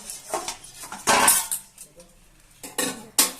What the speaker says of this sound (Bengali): আমি ঢাকনাটা খুলে দিচ্ছি।